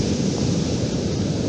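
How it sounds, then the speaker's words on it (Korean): Ocean waves at San Carpoforo Creek Beach make a steady, full roar of surf that fills the whole moment without a break, close and loud, with wind mixed in and no voices. "이 지금 보고 있는 이 파도 같은 것도"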